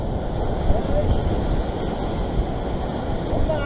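Ocean waves churn and rush in a continuous low roar, close and loud, with wind buffeting the microphone throughout.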